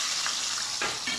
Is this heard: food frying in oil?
yes